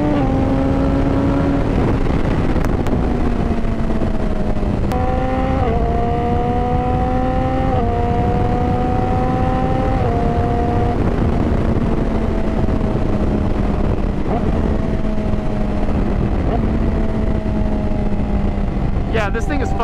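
A 2020 Yamaha R6 sport bike engine drones steadily under wind rush, its pitch stepping up and down through quick-shifted gears across a continuous ride.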